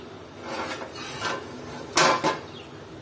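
A utensil scrapes and stirs drumstick and potato curry in a pan on the stove, giving a few rough rasping strokes with two louder scrapes near the end, close and alone without talk.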